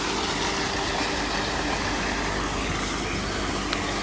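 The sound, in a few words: water pump motor running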